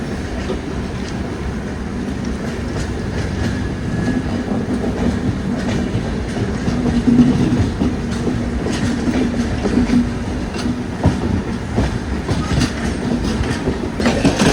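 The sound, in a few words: passenger train entering station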